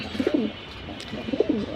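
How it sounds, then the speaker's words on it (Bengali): Two bursts of soft, low cooing from a pair of silver pigeons, one near the start and another about a second later, with quiet background between them. "এই হলো এক জোড়া তোতা সিলভার কবুতর"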